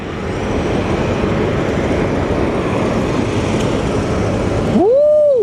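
A Southwest Airlines jet at Sky Harbor airport roars steadily as a loud, continuous broadband rumble for several seconds, close and unbroken, ending with a brief whoosh as it passes.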